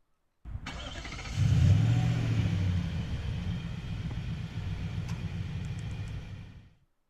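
A 2019 Nissan Titan Crew Cab Platinum Reserve 4x4 pickup engine starts by remote start from the key fob, with a quick crank, a loud swelling rumble, then a steady close idle that cuts off at the end.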